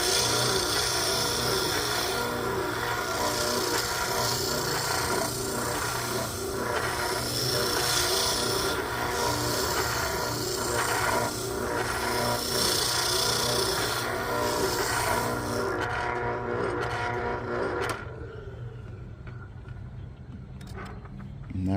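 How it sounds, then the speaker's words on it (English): A Delta B.O.S.S. 31-780 bench oscillating spindle sander sanding the inside of a piece of wood, giving a steady loud motor hum with continuous rasping abrasion that drops near the end as the work is lifted off. "let's say you want to sand inside a piece of wood"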